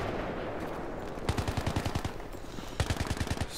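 Two bursts of full-auto rifle fire in Battlefield 3, each a quick rhythmic string of sharp close shots, separated by a short pause over faint background game noise.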